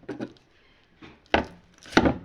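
Knife chopping onion on a board, a handful of short irregular knocks with quiet gaps between them, close and fairly distinct, the last two strokes louder.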